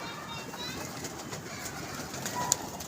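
Pigeons at a pigeon club coo in low, soft rolling calls amid a busy outdoor background, with a brief sharper chirp near the end and people talking nearby.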